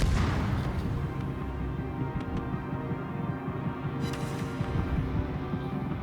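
Ship guns firing shells in the naval video game World of Warships, booming low rumbles that roll on steadily and fairly loud, with no clear break between shots.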